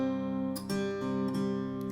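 A close acoustic guitar picks a sustained D-chord pattern that rings on, with a couple of sharp string attacks and a short gap in the middle before the notes resume.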